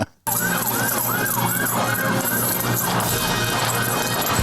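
A police siren wails in a steady rising and falling cycle close by, loud and continuous over low rumbling traffic noise.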